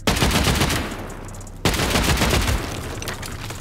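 Rapid automatic gunfire in a raiding video game as a player shoots apart a small box, two loud dense bursts split by a brief gap, with no talking.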